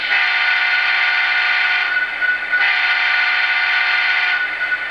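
A model train horn sounds in two long, steady blasts separated by a brief break, loud and close with a bright, reedy tone.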